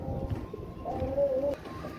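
Pigeons coo softly, with one short throaty call in the middle over low background murmur; the birds are male Shaki Teddy and Royal Teddy pigeons.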